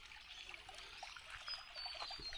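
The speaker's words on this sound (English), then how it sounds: "you've got the sound of frogs and running water" Running water trickles steadily through a creek at a bush campsite, a soft continuous babble with faint chirps or calls over it, moderately distant and with no talking.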